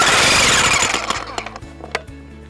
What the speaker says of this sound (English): Always check that your jackhammer's working.